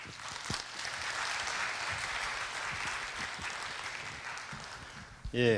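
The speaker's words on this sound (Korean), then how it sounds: "박수로 우리 임종인 특보님을 모시도록 하겠습니다." At a Korea University security conference, the audience claps steadily to welcome a speaker to the stage, a dense, even wash of applause lasting several seconds before a brief bump of noise at the end.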